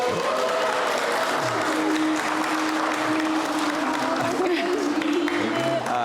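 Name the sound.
wedding guests applauding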